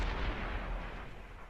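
Tank cannon fire in a World of Tanks competitive match sounds as a deep booming blast that rumbles and fades over about a second and a half. The shot is loud and close, with no talk over it.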